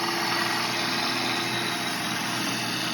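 A bowl gouge makes a slicing cut into a wooden bowl spinning on a wood lathe, giving a steady, loud whirring hiss of cutting over the lathe's motor hum, continuous for the whole span with no talk.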